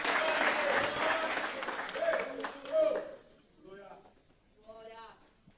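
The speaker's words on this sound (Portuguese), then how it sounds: "aplaude mais forte o Senhor" Church congregation clapping loudly for about three seconds, dense and fading out, followed by a voice speaking over quieter hall sound.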